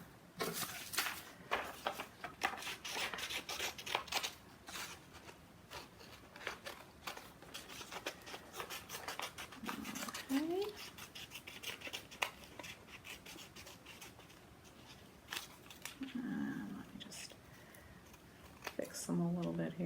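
Scissors snip through paper while cutting out pieces for a caterpillar craft, a few soft close cuts and rustles under steady talk.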